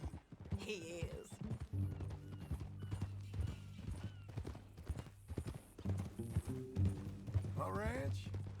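Steady clip-clop of hooves in Red Dead Redemption 2 keeps a walking rhythm while a horse whinnies near the end, with voices talking over it.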